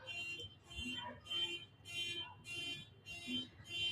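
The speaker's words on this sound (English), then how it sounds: "Someone's alarm's going crazy." Someone's alarm goes off in a rapid string of short high beeps, about six pulses in four seconds. It is fairly faint in the room, with a low murmur underneath.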